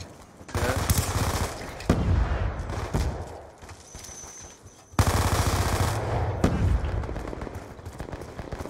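Automatic gunfire in Black Ops II multiplayer: loud bursts of rapid shots in two main volleys separated by a brief lull, with scattered single cracks.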